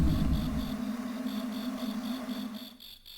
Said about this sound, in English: I love those cricket noises.